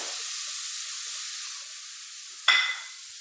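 Carrot dropped into hot coconut oil already browning onion and garlic: a steady soft sizzle, then a sudden louder burst of crackling hiss as the carrot hits the pan, settling back to frying. No talk.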